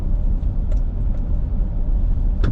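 A car at an SCCA track day brakes hard into turn one, heard from inside as a loud, steady low rumble of engine and road noise with a few faint clicks, no talking.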